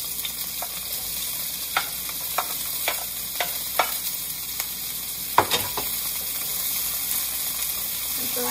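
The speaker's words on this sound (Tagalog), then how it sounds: "We saute the garlic onions and the ginger." Onion, garlic and ginger sauté in a hot pan at 350 degrees Fahrenheit, giving a steady close sizzle with periodic scraping stirs and clinks of a utensil against the pan.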